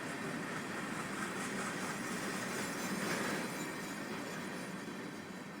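A Union Pacific freight train rolls past in Train Simulator 2021 near Gilroy, a steady broadband rumble of wheels and cars with faint clicking over the rails, swelling slightly mid-pass and continuing without voices.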